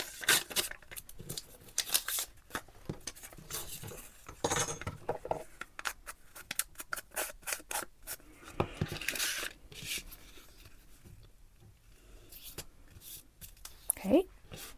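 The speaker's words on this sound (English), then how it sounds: "I'm going to cut it the same width here" Scissors cutting through junk mail paper for an upcycled craft project, a busy run of snipping, rustling and paper handling close to the microphone, with a person talking over parts of it.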